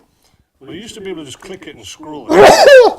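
A single sharp sneeze bursts out right after a short stretch of conversational speech, loud and close.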